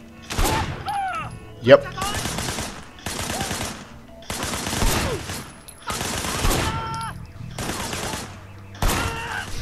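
Gunfire in the video game Sleeping Dogs comes in repeated bursts of rapid shots separated by short pauses, loud and close, with brief spoken remarks between volleys.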